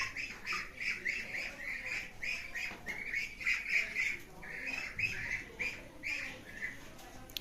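Chickens, including roosters, squawk and cluck on a rooftop in a rapid, repeated series of sharp calls, fairly close and continuous without talk.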